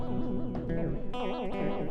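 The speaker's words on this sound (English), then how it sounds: "A more cartoony sounding chorus." An electric guitar played through a cartoony chorus effect close to a phaser, with short wobbling, warbling notes shimmering and swirling in quick succession, loud and alone.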